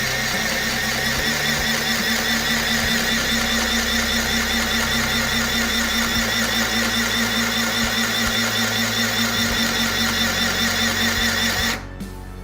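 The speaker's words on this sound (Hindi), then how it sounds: "तो मैं पहले बटन की मदद से चला के देखता हूँ इसको किस तरीके से सिलाई होती है।" A portable cordless handheld sewing machine stitches through cloth with a steady, loud, fast mechanical whir and rapid clatter that runs continuously, then stops abruptly near the end.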